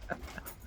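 Dogs playing out on a walk, with a couple of short yips or whimpers and quick panting breaths close by, brief and fairly quiet.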